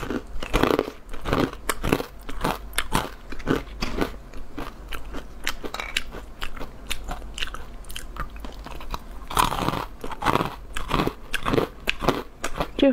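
Crunchy sweet leaf- and watermelon-shaped cookies are bitten and chewed up close, with a steady series of sharp crisp crunches and crackles throughout and no talking.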